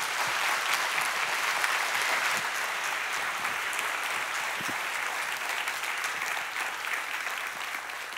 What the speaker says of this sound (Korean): 우리 많이 박수해 주시면 좋겠습니다